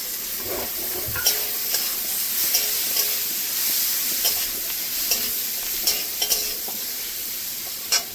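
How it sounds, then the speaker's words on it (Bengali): Tomatoes tossed into a frying bitter gourd (karela) curry with chilli powder, stirred steadily in a pan: continuous sizzling hiss with a spatula scraping and knocking at irregular intervals, close and fairly loud, no talking. "টমেটোগুলো দিয়ে দেবো।"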